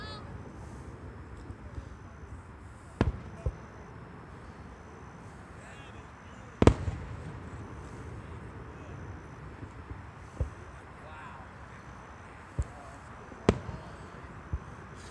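Distant fireworks over water at a Worthington display: scattered sharp booms and pops, a few seconds apart, over a low crowd murmur, with people talking quietly nearby.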